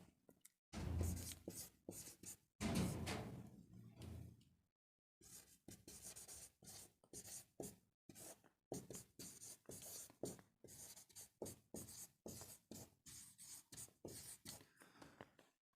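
Writing a sentence on a classroom board, heard as close, scratchy strokes: two longer rubbing passages, a brief gap, then a quick run of short taps and scrapes, soft and alone.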